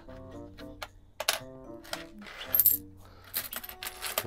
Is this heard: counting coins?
yes